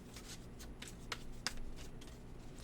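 A deck of oracle cards shuffled by hand: soft, repeated riffling and papery slaps over a quiet room hiss, with two sharper card snaps standing out.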